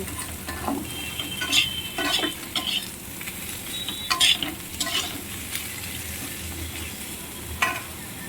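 Ridge gourd stirred in hot oil on a gas flame at low heat, a steady soft sizzle broken by scraping spatula strokes against the pan at irregular intervals, close and moderately loud with no talking.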